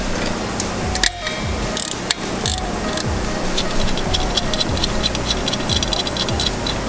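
Wrenches ratcheting and clicking on the 14mm bolts of the pitch brace on a 2017 Subaru WRX, a run of close, rapid metallic ticks over a steady background noise.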